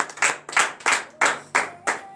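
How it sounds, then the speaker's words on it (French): A church congregation claps in acclamation during a Friday morning prayer service in Benin, with six or seven sharp, evenly spaced claps in a slow rhythm. The claps are close and distinct. "donnez de vive acclamation à notre Seigneur."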